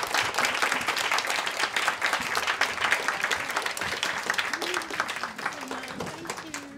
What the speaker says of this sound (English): please give them a big round of applause for being here